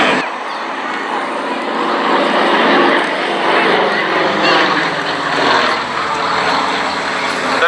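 A pair of Yak aircraft flying in close formation at a seaside air show, their piston engines and propellers producing a steady broad drone that swells and recedes slightly as they pass, loud and continuous throughout.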